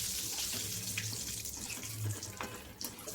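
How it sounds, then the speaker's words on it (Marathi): Hot oil sizzling loudly and steadily as a spoonful of salted water is added to crisp, raw potato chips frying on a lowered gas flame, a continuous hiss with faint crackles throughout. "पाणी टाकल्यामुळे आवाज तर येईलच तेलाचा."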